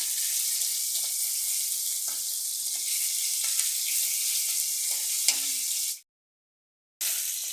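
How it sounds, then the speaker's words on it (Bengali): Tengra fish sizzle steadily in hot oil, a dense bright crackle with a few utensil clicks as the pieces are turned, the frying cutting out briefly for about a second before resuming. "মাছের এক ফিট ভাজা হয়ে গেছে আমি একটু উল্টে দিচ্ছি মাছগুলোকে"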